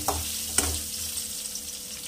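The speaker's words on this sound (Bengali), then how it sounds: "আলুগুলো আমি লাল করে ভেজে" Potato pieces with salt and turmeric frying in oil, a close, steady sizzle with a couple of stirring clinks near the start, and no talk.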